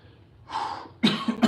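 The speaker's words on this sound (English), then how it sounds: "I feel like I'm gonna have this cough for like weeks on end." A man gives a short breathy exhale, then coughs sharply twice in quick succession, close and fairly loud.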